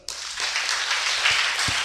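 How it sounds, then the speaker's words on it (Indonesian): Congregation at an Islamic boarding school gathering breaks into sudden applause, a dense burst of many hands clapping that continues evenly, with a few low thumps beneath. "Tepuk tangan dulu lah"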